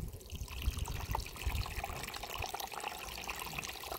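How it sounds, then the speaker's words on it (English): Water is poured into a garden bird bath, making a steady splashing, trickling flow close by that runs throughout without pause, with no talking. "We'll water the bird bath."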